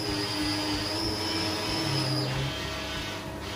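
A steady loud rumble of a moving economy-class train, with a high metallic whine drifting across and fading midway.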